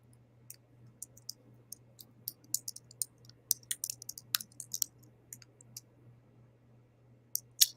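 Keys clack on a computer keyboard in quick irregular bursts over a low steady hum, fairly close and fading to pauses before a final flurry.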